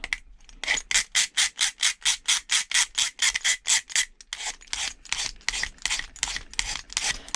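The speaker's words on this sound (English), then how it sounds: "So I'm just literally scraping a bit of this horrible lacquer off." Lacquer is scraped by hand off a copper piece in fast, regular rasping strokes. The strokes come loud and close, pause briefly partway through, then resume at a slightly slower pace.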